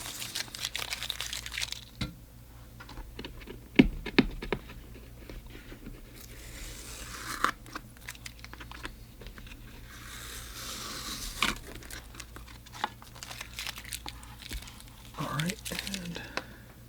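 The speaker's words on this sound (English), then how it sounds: "We'll take the tape off here" Masking tape peeled slowly off a watercolor painting on paper, scattered crinkly tearing and crackling sounds over a steady low hum, close but fairly quiet.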